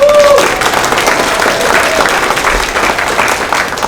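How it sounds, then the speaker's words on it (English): Audience at a Chinese festival applauds in a dense, sustained round of clapping that carries through to the end, with a brief tone and murmurs at the start. "Let us give them a great round of applause again."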